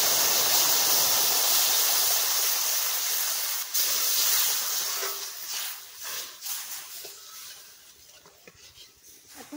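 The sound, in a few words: hot milk poured into fried semolina sizzling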